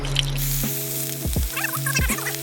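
Trout fries in olive oil in a hot pan over embers, giving a close, steady sizzle broken by a few sharp pops and crackles.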